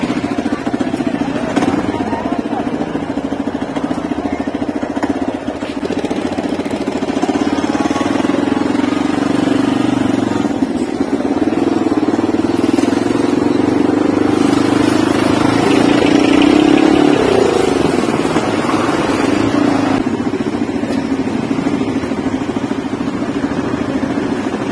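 Several motorcycle engines idle in a traffic jam, a steady, loud, low rumble that holds throughout with mild surges and clatter, with no clear talk.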